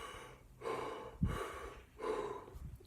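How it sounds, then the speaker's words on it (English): Shamanic breathing with strong breaths through the open mouth, a close rhythmic series of forceful rasping inhales and exhales, roughly three full cycles with a sharp gasp in the middle. "your in-breath is strong, and then your out-breath is strong"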